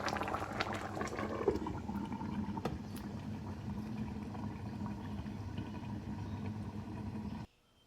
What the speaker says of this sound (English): Bring it to a boil and let it simmer on low for 90 minutes.